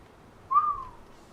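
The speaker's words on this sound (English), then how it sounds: "Sorry, not supposed to whistle on the stream" A single short whistled note from a person, rising slightly and then sliding down, clear and close over a quiet background, during a playthrough of the survival city-building game Endzone.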